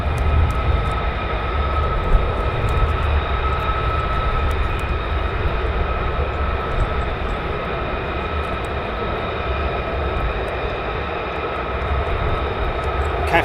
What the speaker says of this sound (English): So one of the F-15s is heading back for technical problems.